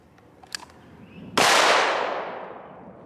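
A single sharp gunshot from a cowboy-style firearm cracks out at a target, loud and close, its burst tailing off in a long fading echo after a few faint clicks.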